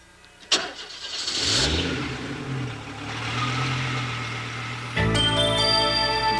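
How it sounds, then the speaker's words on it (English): A 1989 concept car with two extra wheels self-parks, its motor whirring and rising in pitch, then settling into a steady hum before a sharp mechanical shift near the end. "all he has to do is point the nose into the parking space and the car takes care of the rest"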